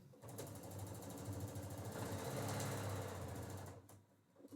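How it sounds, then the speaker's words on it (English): A sewing machine runs steadily, stitching quilting fabric guided along the edge of the presser foot, a continuous close mechanical whir for about four seconds before stopping. "Make sure the edge of your presser foot is on the edge of the fabric, and then just sew."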